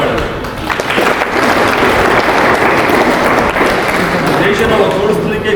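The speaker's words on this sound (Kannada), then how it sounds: "ಚಪ್ಪಾಳೆ." An audience at a defence-careers coaching class breaks into dense, sustained applause, loud and close, lasting several seconds with clapping filling the room and voices mixed in.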